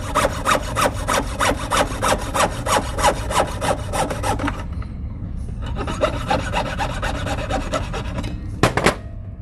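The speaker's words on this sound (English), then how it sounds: "When I start my sandpaper, I'm only doing sandpaper. Put a little bit of wax so it slides," Sandpaper coated with a little wax rubs back and forth over a cast silver pendant in quick, rhythmic rasping strokes, close and steady, with a brief pause midway before the sanding resumes.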